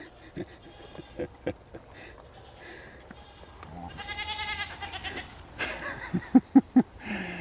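Goats bleat on a farm, several loud wavering calls rising in the middle, then a few sharp short cries near the end, over a scattered background of soft knocks and rustling.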